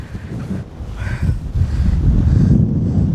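Strong wind gusting across open Mongolian desert, blowing sand along, as a loud, steady low roar with buffeting rushes against the microphone that build and hold throughout.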